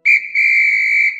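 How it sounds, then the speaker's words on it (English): Starting whistle in the Team Umizoomi racing game: one loud, steady, shrill blast lasting over a second with a slight dip near the start, ending in a brief click. "That's the starting whistle!"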